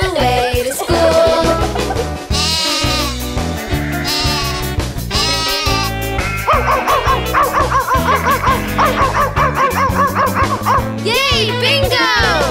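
Sung children's nursery rhyme with backing music, where voices imitate a dog's bark in rhythmic woof-woofs over a bouncy tune; cartoon-style dog barks and other animal sounds mix in.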